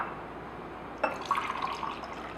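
Plain water dumped out of a container into another vessel, a sudden splash followed by a short steady pour and trickle, close and fairly loud with no talking.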